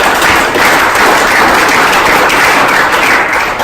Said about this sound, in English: big round of applause for Dale Grant